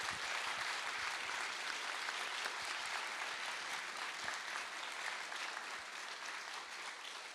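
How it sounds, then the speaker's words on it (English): An audience at a Christchurch urban climate adaptation panel event claps for its panellists and speakers, sustained steady applause filling the room at even loudness, fading slightly toward the end. "could I just ask you all to join with me and thank our panellists and speakers tonight"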